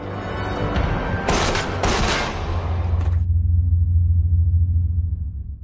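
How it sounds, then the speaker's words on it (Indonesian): A film scene of a hired killer's showdown opens with loud bursts of rapid gunfire lasting about two seconds, followed by a low, sustained rumble that carries on alone. "dan orang yang menembak Paijo adalah Fukami"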